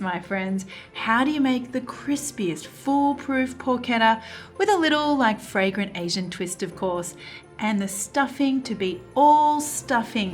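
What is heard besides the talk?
No everyday noises stand out.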